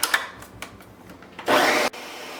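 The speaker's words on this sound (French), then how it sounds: "Et là, je vais mixer le tout." A blender whirs in one short loud burst as it mixes a couscous sauce with lemon juice, preceded by a few light knocks and taps.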